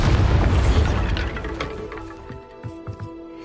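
A Bombarda spell blast in the Hogwarts Legacy video game: a loud, deep explosion opens the moment, then rumbles and decays into scattered debris clatter and small knocks.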